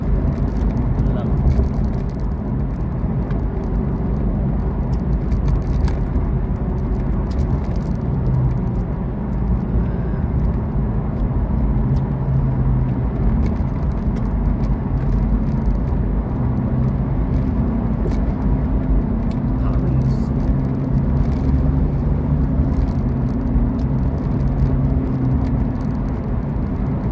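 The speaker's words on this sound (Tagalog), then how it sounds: "That freeway. Traffic pa lang." Steady freeway traffic heard from inside a moving car, a continuous low road rumble and engine drone running evenly throughout with little change, while people talk in the background.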